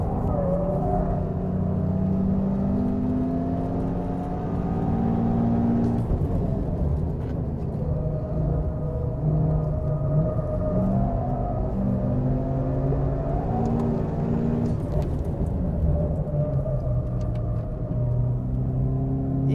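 A car circles a race track at the fourth-corner braking zone, its engine droning and shifting pitch steadily for nearly twenty seconds under braking and acceleration, heard from inside the car with no talking.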